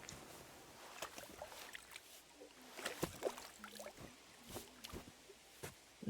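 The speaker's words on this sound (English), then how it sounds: "Let's wash up here." Soft splashing and sloshing of water as a character washes up in Kingdom Come Deliverance 2, with a few faint, scattered splashes at low volume and no talking.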